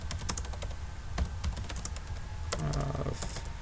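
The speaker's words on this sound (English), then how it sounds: "I need to take a typing class, I forgot how to type now" Rapid typing on a computer keyboard while entering program code: quick irregular clicks and clacks, close and fairly quiet, with a few louder keystrokes scattered throughout.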